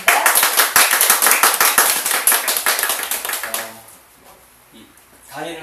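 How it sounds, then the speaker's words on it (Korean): Loud, dense audience applause welcoming a lecturer at a small-library talk, close and vigorous for about three and a half seconds before fading out, followed by a brief quiet stretch and a voice starting to speak. "여러분 큰 박수로서 강의 들어보겠습니다."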